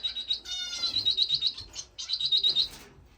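Finches chirping in an indoor bird room, two bursts of rapid, high, bright tweets close by with a short pause between them.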